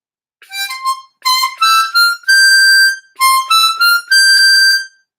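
Harmonica melody played straight with no bends or overblows, a run of clear sustained notes in short phrases, close and solo.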